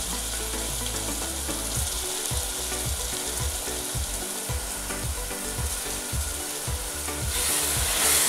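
Potatoes fry with onions, tomatoes and chillies in a pan for veg pulao, a steady loud sizzle broken by regular scraping stirs throughout.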